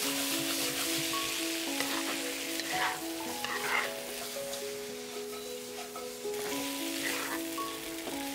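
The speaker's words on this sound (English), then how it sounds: "add in the crispy pork belly. Stir fry for a few minutes" Crispy pork belly is stir-fried with garlic and chilli, a dense, steady sizzle close by with stirring scrapes running through it.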